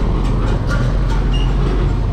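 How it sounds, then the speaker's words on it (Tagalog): Heavy trucks on a road, heard from a motorcycle, give a loud, continuous low rumble with no voices. "dami truck dito"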